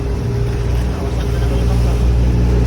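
A bangka outrigger boat engine drones loudly and steadily during island hopping, mixed with rushing wind and water noise, a continuous low rumble throughout.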